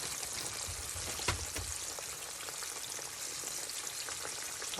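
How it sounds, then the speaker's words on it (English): Green tomatoes fry gently in hot oil with a steady, soft sizzle and crackle that runs throughout, with a few sharper pops rising above the even hiss. "Nice, gentle fry."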